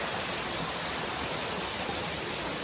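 Mae Ramoeng waterfall in Thailand, second tier, pours in a steady broadband rush, close and constant with no other sounds.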